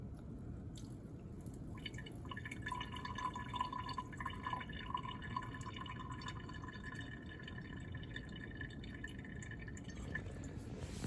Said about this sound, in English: So we're going to carefully decant this again.